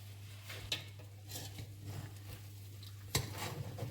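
Cooked biryani is stirred in a pot, scattered soft scrapes and clinks of a spoon against metal over a steady low hum and faint sizzle.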